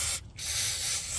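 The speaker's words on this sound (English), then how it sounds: "I've got a bit of brake and parts cleaner. Just going to be spraying that like that" Brake and parts cleaner sprays hard from an aerosol can onto a Toyota Prado's brake assembly, a loud steady hiss with one brief pause before it resumes, with no one speaking.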